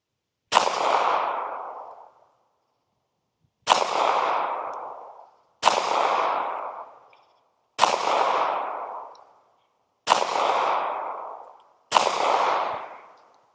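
A Ruger LCP Max pistol fires six loud, close shots one at a time, each with a sharp crack and a ringing tail lasting over a second, separated by pauses of a few seconds.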